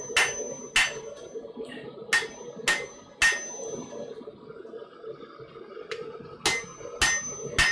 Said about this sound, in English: So yeah, this is a light hammer.